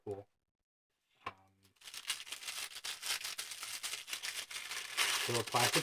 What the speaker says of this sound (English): Little plastic bag.